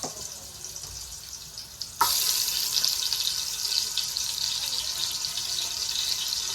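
Oxtail pieces hit a hot pot at about two seconds and start browning for a Jamaican-style stew, a loud, steady sizzle and crackle that holds close and continuous to the end, with no voices.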